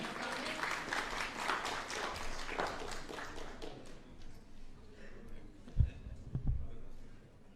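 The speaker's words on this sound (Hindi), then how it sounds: "तालियां हो जाएं" Applause from an audience at a New Delhi stage event, steady and fairly loud at first, then thinning out toward the end, with a few sharper thumps near the close.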